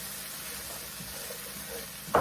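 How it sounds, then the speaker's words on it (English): Vegetables sauté with garlic and ginger in a pan, a steady close sizzle and hiss with faint stirring, ending in a brief clatter. "You can see it's just a quick saute with the garlic, ginger,"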